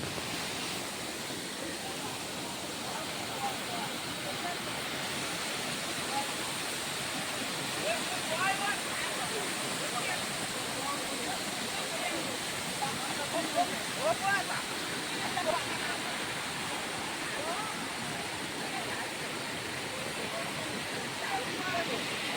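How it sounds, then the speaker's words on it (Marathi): A large waterfall at Ainvahal near Kolad, Roha, roars in a steady, powerful rush of water, loud and unbroken throughout. "हा इथे एक मोठा धबधबा. एक जबरदस्त फ्लो आहे, पाण्याला खूप जोर आहे"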